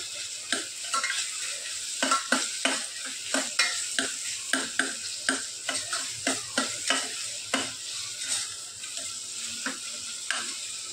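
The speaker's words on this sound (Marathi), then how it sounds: "छान सगळं परतून घेऊ." Tomato sautéed in a pan for red masoor dal tadka, with steady frying sizzle under a rhythmic series of spatula scrapes and stirs, close and moderately loud, with no talking.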